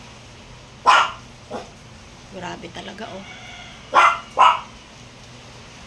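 A dog barks sharply a few times at close range, with brief spoken words in between the barks.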